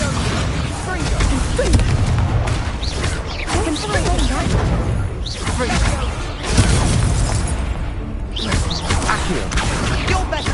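Repeated blasting explosions from the Confringo spell in a Harry Potter video game, loud bursts and shattering booms in a dense, continuous barrage with a voice shouting spell names over them.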